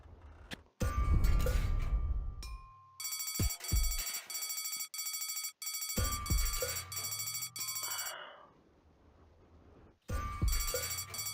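An emergency phone rings in the video game Deponia in loud, bright bursts that start and stop abruptly, with short gaps between them and quieter game sounds in the pauses.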